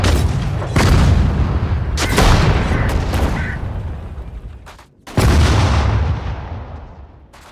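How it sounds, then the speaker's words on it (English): Heavy guns firing in the World War II strategy game Sudden Strike 4, Battle of the Bulge: several loud booming blasts with long rumbling decays, spaced a second or two apart, no talk over them. "Fire the gun."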